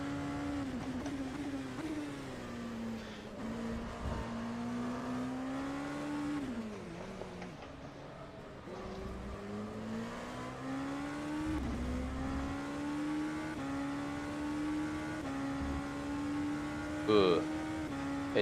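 An LMP2 race car engine in rFactor 2 at Silverstone drones steadily at close range, its pitch sagging and climbing with gear and throttle changes. A brief quieter dip comes midway, and a short burst arrives near the end.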